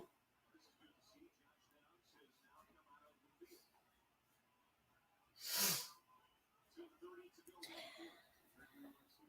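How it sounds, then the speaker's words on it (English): A person with a cold blows their nose once in a short, sharp, loud honk partway through, with quiet breathing and soft rustling around it and a fainter snuffle afterward. "I'm gonna have to blow my nose."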